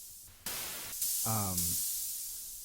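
Bursts of synthesized hissing white noise, like steam venting, made in FL Studio with a resonant high-pass filter, switch on and off in short blocks, with a brief tonal buzz in between.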